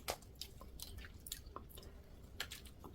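Close, quiet chewing of spicy mala crayfish, with soft wet bites and squishy crunches coming in irregular bursts, no talking.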